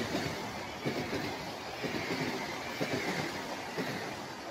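A model train passes through a small-town scene on a large model railway layout, giving a steady, soft rumbling hiss with faint rhythmic clicks of wheels on track throughout.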